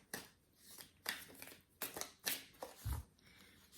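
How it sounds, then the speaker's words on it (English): Tarot cards are shuffled in several quick riffling bursts, each a short crisp flutter, close and fairly quiet, with no talking. "one more shuffle"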